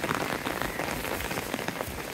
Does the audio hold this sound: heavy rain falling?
yes